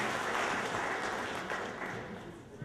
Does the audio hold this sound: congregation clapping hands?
yes